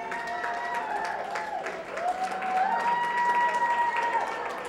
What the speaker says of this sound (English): How about a round of applause for this group?